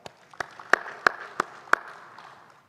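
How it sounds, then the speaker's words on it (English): A handful of slow, separate claps for a guest speaker at a panel discussion, six or so distinct hand strikes spaced about a third of a second apart, sparse and fading out. "A round of applause to Mr. Nelson Chia."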